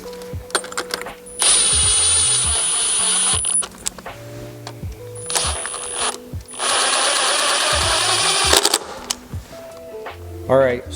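Power ratchet or driver torquing bolts on a Timbersled belt drive, sounding in two long, loud bursts of steady mechanical whirring with clicks and clanks between them, nearby.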